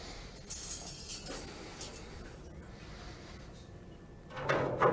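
Metal grill grates clinking and sliding back into place inside a Green Mountain Grill pellet grill, a few faint scattered knocks and a louder metallic clatter at the end, with no talk.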